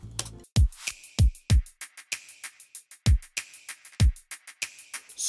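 Clap sample layered into the bridge of a pop EDM track produced in FL Studio, sharp bright hits landing on a repeating beat alongside punchy low drum thumps and ticking percussion, loud and up front with no voices.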